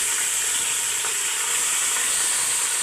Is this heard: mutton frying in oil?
yes